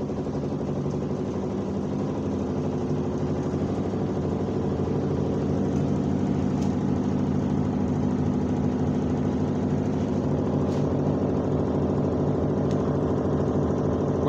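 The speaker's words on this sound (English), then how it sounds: "अब मशीन जो है पहला स्पिन करेगी, निचोड़ेगी, यानी पानी निकालेगी निचोड़ के" A Haier automatic washing machine in its spin cycle, giving a steady, loud motor hum and whir that builds slightly and holds constant, with faint periodic ticks over it.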